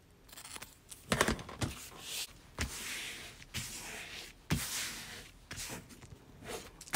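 Paper scissors cut through vinyl while making a bag strap connector, giving a few crisp, close snips spaced a second or two apart over quiet room tone.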